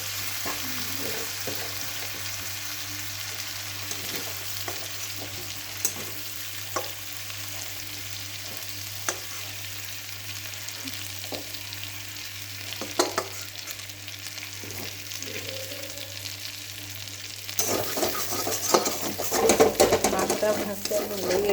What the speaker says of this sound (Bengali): এগুলো হালকা করে ভেজে নেবো আমি।